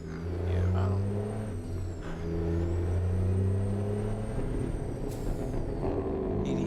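A simulated truck in a video game runs a Detroit Diesel Series 60 14-liter engine, giving a steady, loud, low droning hum with a sharp air hiss near the end.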